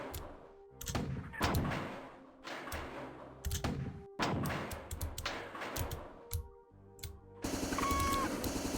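Repeated grenade blasts and combat bursts in the video game Marathon, loud thumping explosions in quick succession with heavy low rumble, followed by a denser metallic burst at the close.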